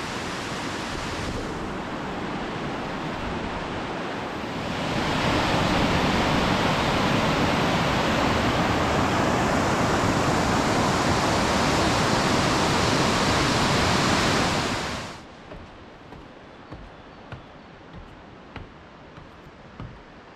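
The Helvetesfallet waterfall roars through a rocky gorge with steep cliff walls in Sweden, a loud dense rushing that swells further midway, then drops abruptly to a faint background with small ticks.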